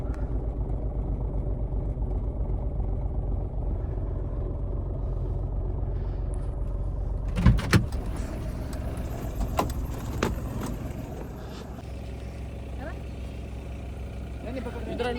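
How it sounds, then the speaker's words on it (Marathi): A car engine idles on a very cold morning, a steady low rumble close by, with a few thuds and clunks midway and someone talking over it. "सकाळी गाडी आपली केली चालू."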